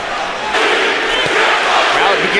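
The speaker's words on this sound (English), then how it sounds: "Crowd begins to chant." A boxing arena crowd at a middleweight title fight chants and roars in a dense, loud wash of voices, sustained throughout with a few sharper swells.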